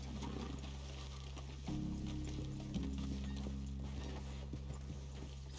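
Horses in the video game Red Dead Redemption 2 walk with steady, rhythmic hoof clops on the ground under a constant low ambient hum, fairly quiet and close.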